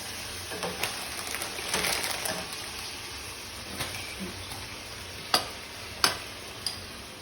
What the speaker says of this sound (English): stir everything around